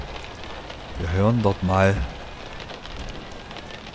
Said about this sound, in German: Ach, es regnet sogar direkt.